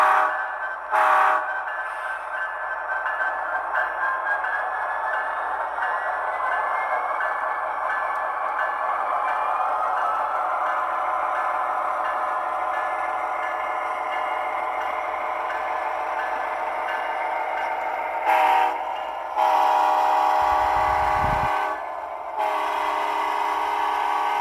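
A model train locomotive runs continuously on a layout with a steady mechanical hum and whine, a few brief horn or sound-effect bursts near the start and end, and no talking.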